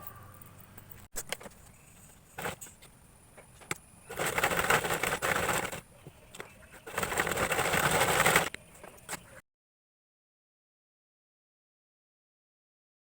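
A sewing machine stitches fabric for a skirt in two close bursts of a few seconds each, with small handling clicks between them and silence at the end.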